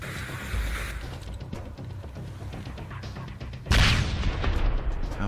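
A grenade thrown in the survival video game Sunkenland bursts in a loud, sudden blast partway through, followed by a lingering rumble over a steady ambient background.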